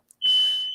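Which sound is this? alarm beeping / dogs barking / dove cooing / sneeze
alarm beeping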